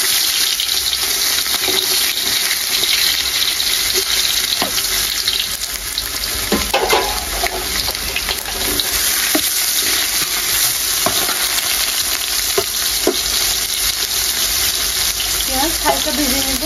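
Chopped onions fry with bay leaf, dried chillies, cardamom and cinnamon in a pan for duck curry with pulao, a loud steady sizzle broken by scattered stirring scrapes and clinks; no talking.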